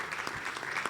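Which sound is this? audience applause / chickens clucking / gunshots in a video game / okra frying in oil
audience applause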